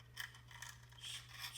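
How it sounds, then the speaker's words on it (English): A razor blade scrapes paint along the radiused edge of a plastic BMW E46 centre console in short, faint, repeated strokes over a low steady hum. "all I'm doing is I'm just using the razor and I'm just on the edge of the radius"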